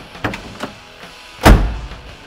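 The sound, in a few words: door of a 1970 Chevrolet Chevelle SS454 closing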